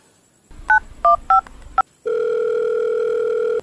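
A cellphone beeps out four quick keypad tones in a row, then a steady, loud dial tone holds alone until the end.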